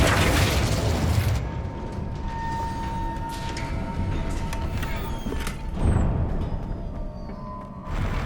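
A Flipendo spell cast in the Hogwarts Legacy video game, heard as a burst of magical impact over dense game ambience, followed by a second surge of noise later on.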